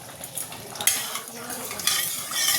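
Two spoonfuls of sugar melting in a hot wok, giving a soft steady sizzle with light stirring and a metal utensil scraping the pan, close by and alone.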